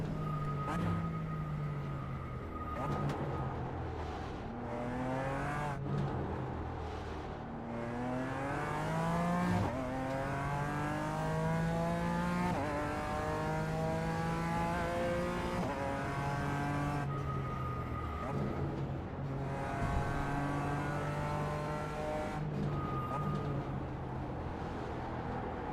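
Race car engines in iRacing, GT3, GT4 and GTP cars on track: a steady, loud engine drone climbs through the gears in repeated rising sweeps with brief drops at shifts, continuous throughout with occasional voices.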